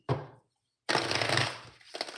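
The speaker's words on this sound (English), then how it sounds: "Let me shuffle these up." A deck of tarot cards being shuffled by hand, heard as two separate bursts of close papery riffling with a short silent gap between them.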